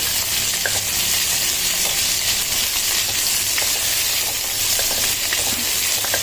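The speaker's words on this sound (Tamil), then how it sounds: "அதை இதோட போட்டு நல்லா வதக்கிக்கலாம்." Chopped onion sautés in a pan for vegetable biryani, giving a loud, steady close sizzle throughout, with small stirring scrapes and ticks scattered on top and no talking.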